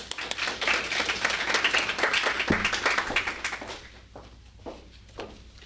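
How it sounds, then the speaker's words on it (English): Applause at a university community book launch for African American studies, a crowd clapping steadily and loudly, then thinning out into a few scattered claps and quieter room noise near the end. "I'd like for you to please give them a round of applause"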